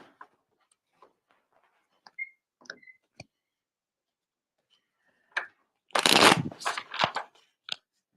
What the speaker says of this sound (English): So, let me pull a card for you.